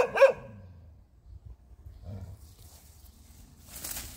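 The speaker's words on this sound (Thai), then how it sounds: "เอ็งไปเห่าดักหน้า" A dog gives one loud bark at the start, followed by low growling and quiet rustling noises.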